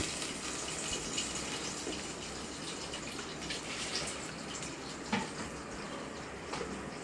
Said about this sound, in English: Give it a little bit of water to get the rest of it out.